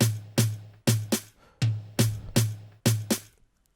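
Snare samples triggered in FL Studio, two different snares alternating in a quick, uneven pattern of about nine sharp cracks with bright noisy tails, close and dry with no voices.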